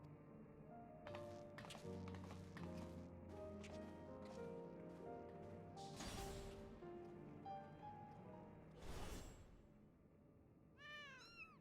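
Cats in a video game meow in short, thin calls over a quiet music bed, with a couple of soft thuds and taps between them.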